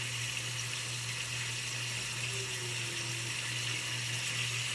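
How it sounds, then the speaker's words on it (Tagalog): Water pours steadily into a pot for soup, a continuous even trickle under a constant low electrical hum, fairly faint and unbroken, with no talk. "So ako na nambutangan og tubig."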